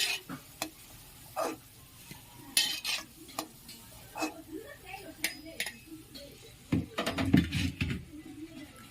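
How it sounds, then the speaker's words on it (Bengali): Pieces of chhana frying in a pan for a Bengali vegetarian chhanar dalna, with intermittent scraping strokes and light metallic clinks of a spatula over a soft, close sizzle. "এইভাবে সবগুলি ভেজে নিয়ে আমি আবার ফিরে আসছি।"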